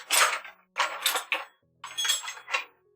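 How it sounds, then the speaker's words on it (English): Someone rummages in a drawer crammed with metal kitchen gadgets and utensils, producing three close bursts of clattering, clinking metal with short quiet gaps between them. "that is the sound of a drawer full of gadgets"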